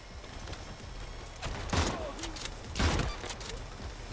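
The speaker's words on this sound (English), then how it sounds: "The shotgun's alright." Shotgun fire in the Crime Boss: Rockay City game comes as two prominent booming blasts about a second apart, amid a busy backdrop of scattered shots and a faint voice.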